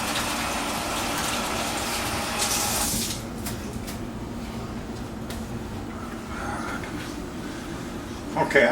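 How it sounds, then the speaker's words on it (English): A kitchen tap runs with a steady rushing gush as hands are rinsed, loud and close at first, then the flow eases into a quieter spatter, with speech partly over it. "I'm gonna rinse my hands."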